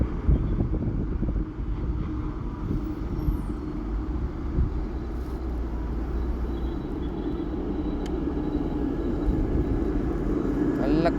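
Low, rumbling wind buffets the microphone outdoors beside the NH66 highway in Kasaragod, Kerala, with faint passing traffic beneath it.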